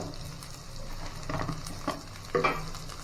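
Beans being stirred in a pan for a curry: a steady low sizzle with soft scraping strokes, including a few louder bursts near the end, close by and without talk.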